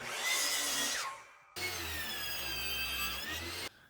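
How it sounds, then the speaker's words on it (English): A table saw rips a 2x10 board down to 3.5 inches wide, its motor whining steadily in two loud runs separated by a brief pause, with the blade's harmonic ring and the bite of the cut into the wood. "over at the table saw, cut it to the same width as a 2x4"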